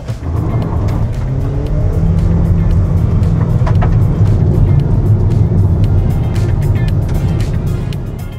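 Hard launch-control acceleration in a GWM Haval Jolion Ultra Hybrid with a 1.5-litre four-cylinder turbo hybrid engine, heard from inside as a loud, steady engine drone that builds and holds for about eight seconds without talk.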